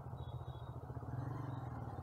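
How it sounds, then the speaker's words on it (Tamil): A Bajaj Freedom 125 CNG motorcycle labors in third gear, its engine giving a steady low throbbing drone that holds at an even, close level without pause. "3rd கியர்லேயும் போகுது, பட் கொஞ்சம் வண்டி கொஞ்சம் கஷ்டப்பட்டு போகுது."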